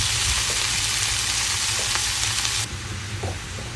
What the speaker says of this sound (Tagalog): Naggisa lang pala ako dyan ng bawang.